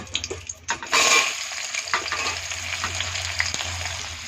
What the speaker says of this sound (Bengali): দেখুন তেলটা গরম হয়ে গেছে, তেজপাতাগুলো দিয়ে দেব।